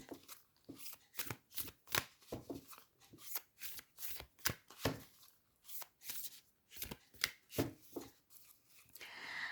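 Tarot cards are shuffled and drawn by hand in a quiet room, giving a quick run of soft riffling slaps and flicks in uneven bursts, close and faint, with no talking.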